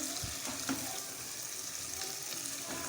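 Spicy potatoes being mixed as they fry in a pan: a steady, even sizzle runs throughout, broken by a few soft scrapes and knocks of the spoon against the pan, close and moderately loud with no talking.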